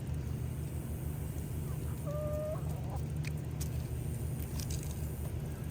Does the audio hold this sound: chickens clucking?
yes